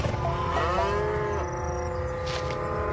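Cattle mooing loudly at close range, a long drawn-out low moo that rises and wavers over a steady outdoor farm background.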